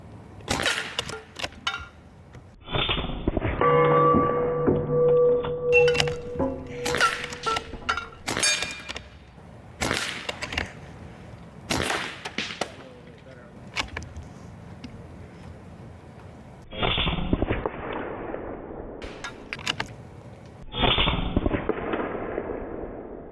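A Beeman Raider PCP air rifle fires repeatedly from its magazine at a target 27 yards away, giving a series of sharp, close cracks and impact smacks separated by short pauses.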